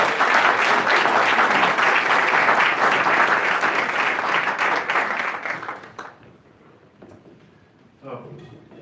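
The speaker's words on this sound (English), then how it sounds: "Let's give him a big round of applause." A gala audience at an MLK leadership awards event breaks into loud, dense applause that holds for about six seconds, then drops away abruptly to room quiet before a voice begins speaking.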